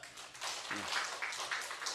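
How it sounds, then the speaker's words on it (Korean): Audience applause in a Korean church revival service, a steady wash of clapping from a congregation lasting the whole moment at moderate level, with a brief voice briefly audible underneath. "박수 한번 쳐줍니다"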